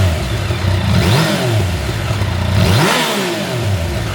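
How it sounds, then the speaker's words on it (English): A Tracer motorcycle on its stock exhaust revs twice in quick succession, each rev rising and falling in pitch over a steady, rumbling idle. "I'm going to show you how to turn your tracer exhaust from sounding like this"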